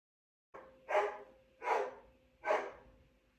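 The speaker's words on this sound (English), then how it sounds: "Y'all know she loves to bark" A single dog barks three times in slow succession, each bark loud and close, with a short quiet pause between them and no talk.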